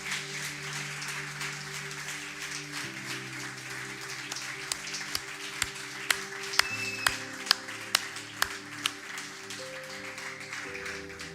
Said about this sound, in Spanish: ¿Cuántos dicen amén a eso y le dan un aplauso a Dios?